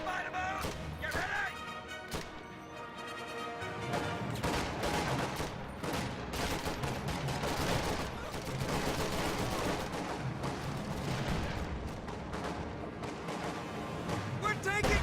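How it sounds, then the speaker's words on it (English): Sustained gunfire and explosions from a video game battle rumble on without pause beneath overlapping voices, with dense, chaotic shots and blasts filling the whole stretch. "We're taking fire!"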